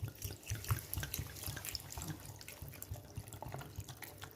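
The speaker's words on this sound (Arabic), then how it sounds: "حطوا ميه" Water poured into a blender jug for fresh orange juice, a soft, close, irregular splashing and trickling with no talk over it.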